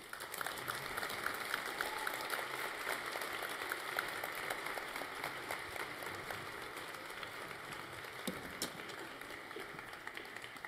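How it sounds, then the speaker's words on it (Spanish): Audience applause at an academic achievement award ceremony for Student Day, a steady, fairly faint wash of many hands clapping that continues evenly throughout. "Pedimos un fuerte aplauso para todos ellos."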